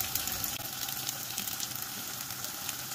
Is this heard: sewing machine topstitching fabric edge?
no